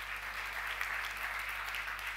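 A long round of applause rises from the audience at an award ceremony, a steady, even patter of many hands, moderately distant and sustained throughout, with a faint low hum beneath.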